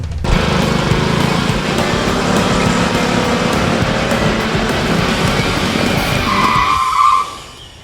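A vehicle speeds along a university campus road with a loud, continuous engine roar and tire skid lasting several seconds, then cuts off abruptly near the end.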